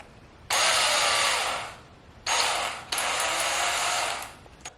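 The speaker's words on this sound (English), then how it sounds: "let's go ahead and put it on the drill." A power drill fitted with a MAEXUS flexible drill bit extension whirs steadily in two close, loud bursts with a brief stop between them, and no one talks.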